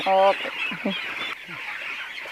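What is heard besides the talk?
chickens clucking on a poultry farm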